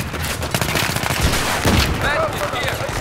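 Dense automatic gunfire and scattered shots from the video game Battlefield 3 on the Epicenter map in Conquest mode, continuous bursts with a heavy low-end thump throughout, loud and busy.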